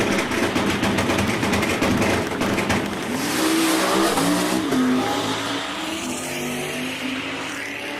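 A Chevelle drag car launches hard down the drag strip, its engine roaring loud and steady and rising in pitch as it accelerates away, with no talk over it.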